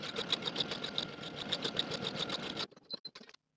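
A sewing machine stitches buttonholes into a dress bodice, running in a fast, even, close mechanical chatter for a few seconds before stopping, followed by a few faint handling clicks.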